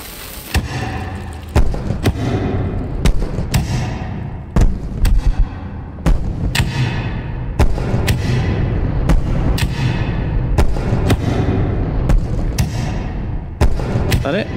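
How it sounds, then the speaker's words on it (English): Fireworks going off inside a video game: a loud, steady run of sharp bangs and thumps, about a dozen over fourteen seconds, each burst layered over a dense rumbling crackle. "Fireworks! Fireworks! Fireworks!"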